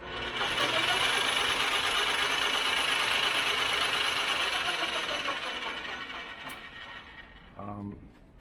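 An old Atlas metal lathe runs with its bull gear and shaft turning fast, giving a steady whirring mechanical drone that fades near the end before a brief clunk.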